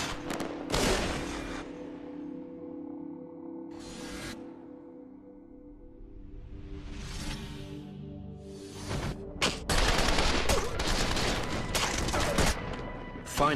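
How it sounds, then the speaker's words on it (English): Police gunfire during a California shootout with an armored suspect, heard as loud bursts of repeated shots at about one second, four seconds and nine to thirteen seconds, with quieter rumbling gaps between them. "I proned out, aimed, and continued to fire at the suspect."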